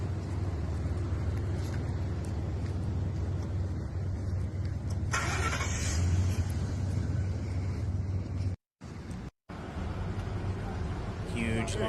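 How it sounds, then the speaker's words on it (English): Slow traffic of cars fleeing a wildfire, a continuous low rumble of engines with occasional louder passes, briefly cut by two short gaps. "Huge lineups, traffic getting out of the path of the flames."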